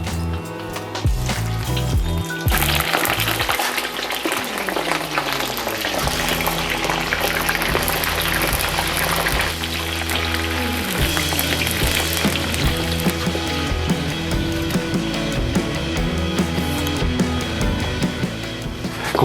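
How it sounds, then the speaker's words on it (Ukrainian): Loud, continuous sizzling and bubbling of corn frying in hot oil, crackling busily throughout with no voices. "Олія гарно нагрілась, закладаю кукурудзу, буду смажити двома порціями."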